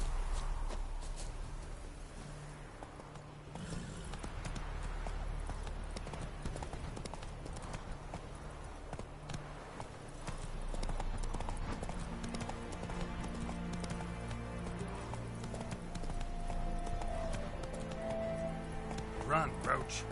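Geralt's horse Roach gallops in The Witcher 3: Wild Hunt, with steady hoofbeats continuing under game music and effects, while a person talks over the action.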